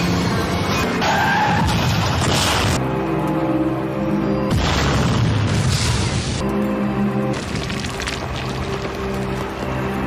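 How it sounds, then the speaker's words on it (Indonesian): A car in a film scene skids with squealing tires, then a crash and booming explosion erupt, followed by another burst of loud impact and fiery roar, all dense and close without talk. "Mobil pun kemudian meledak dalam kobaran api."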